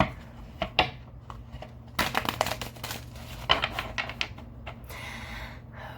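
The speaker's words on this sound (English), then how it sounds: "Shuffle, shuffle. One more time for you guys." Tarot cards being shuffled by hand, with a series of close, crisp riffling and slapping bursts that come in irregular clusters, heard alone without talk.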